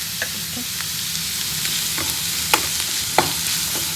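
Bitter gourd and green chillies fry in a pan with a bright, continuous sizzle. Scattered scrapes and clicks from the stirring utensil sound over it, and no one talks.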